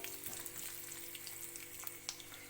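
Cumin, garlic and dried red chillies frying in a pan for a spinach thokku (palak gravy), giving a steady close sizzle with small crackles and a brief louder pop, no voices.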